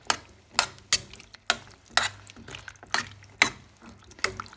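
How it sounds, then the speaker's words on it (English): A spoon stirs a vegetable stock cube into a pot of Brussels sprout soup, making about ten rhythmic scraping strokes roughly half a second apart, close and moderately loud. "we're going to give that a mix around so that the vegetable stock cube can dissolve"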